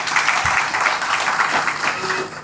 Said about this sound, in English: I think SYPA and Rafiq Bhai and their team deserve a big round of applause.